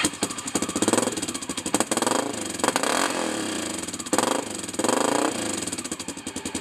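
A Honda XR650L motorcycle with an E-Series exhaust pipe runs loud and close, its engine pulsing roughly and rising in repeated revs between rumbling idle stretches.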